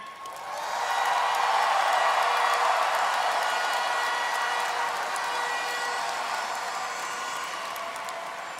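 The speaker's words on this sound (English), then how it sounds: "Please give a round of applause for a true fan favorite, the incredible Miss Anne" Audience at the Miss Universe 2023 preliminary competition in El Salvador breaks into sustained applause and cheering, a broad crowd roar that swells quickly, then holds and slowly fades.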